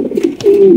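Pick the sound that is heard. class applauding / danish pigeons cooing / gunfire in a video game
danish pigeons cooing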